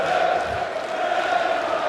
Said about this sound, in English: The volume just goes up a notch in this Dutch crowd.